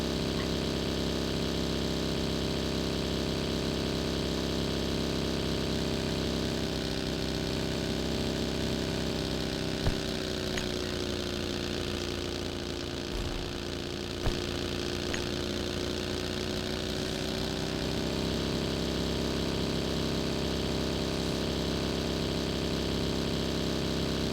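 A vehicle engine idles steadily in the desert map Miramar of the video game PUBG, a continuous mid-pitched drone that holds for the whole stretch with only slight shifts and a couple of faint clicks.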